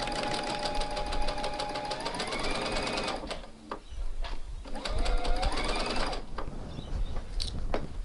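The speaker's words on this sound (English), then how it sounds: "Back stitch." A sewing machine runs at speed in close, loud bursts of rapid rattling stitching, pausing briefly in the middle as it back stitches before running on again.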